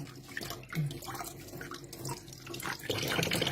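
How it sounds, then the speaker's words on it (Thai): Running tap water over leaves being washed one at a time at a sink, a steady splashing stream with small shifts as each leaf is handled, close by, no speech. "เวลาล้างก็ล้างแบบเป็นใบๆอย่างนี้นะพี่น้อง"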